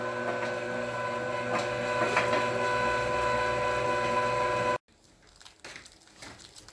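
A meat grinder processes meat on a homestead with a loud, steady mechanical grinding whir that cuts off abruptly near the end, leaving quieter rustling handling sounds.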